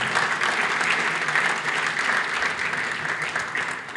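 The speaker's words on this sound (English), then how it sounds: "Clap for that, please" An audience claps steadily for a French football player at an African football gathering, a dense, even wash of applause close by that holds without a break for about four seconds.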